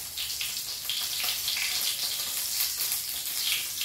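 Pig offal fries in a pan with a steady, loud crackling sizzle that runs on without a break, close by and with no talk over it.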